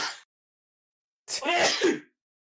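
A single loud, close sneeze bursts out after a brief moment of silence.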